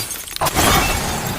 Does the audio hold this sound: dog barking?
no